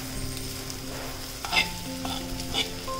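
Stuffed bitter gourds fry in hot oil, giving a steady close sizzle with occasional soft clinks and bursts of spatter as the pieces are turned.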